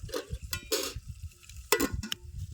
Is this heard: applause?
no